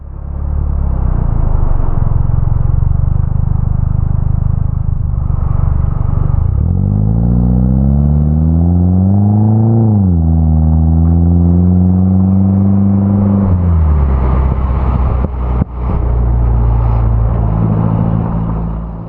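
A MINI Cooper Coupe exhaust rumbles loudly close by, rising in pitch as the engine revs up, then settling back to a deep idle burble.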